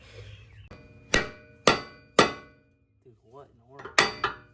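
A metal hammer strikes a car suspension part during a camber adjustment on an IS300: three sharp ringing clangs evenly spaced, then a short pause with a faint voice, then two more quick hits.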